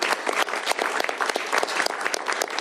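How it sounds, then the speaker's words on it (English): Brisk, moderately loud applause from a small gathering at a state bill signing, honoring the senator who sponsored the legislation. Clapping is crisp and continuous throughout, with no talk. "Please give Marcus, Senator Riccelli, a round of applause as I sign this into law."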